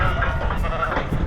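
Freshly shorn ewes bleat in a crowded race during vaccination, with a short, fairly close burst of overlapping bleats and no talking.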